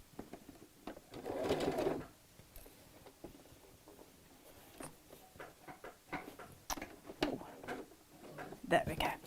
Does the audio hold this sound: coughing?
no